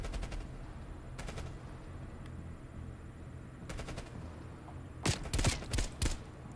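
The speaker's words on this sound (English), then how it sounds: "Who the fuck is shooting?" Bursts of automatic gunfire in the Call of Duty Cold War video game, a short volley early, another near the middle, then a louder, denser string of shots toward the end over steady background ambience.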